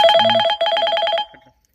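A telephone rings loudly nearby in two rapid trilling bursts, then falls silent.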